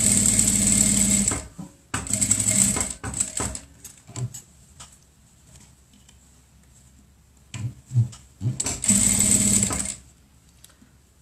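A sewing machine stitching a child's protective fabric mask, with bursts of rapid steady stitching separated by pauses filled with small clicks and handling noises, close and clear.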